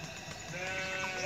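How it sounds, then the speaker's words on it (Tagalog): A single drawn-out bleat from a goat in Ras Al Khaimah, fairly close and steady, with faint farmyard background noise. "Kambing."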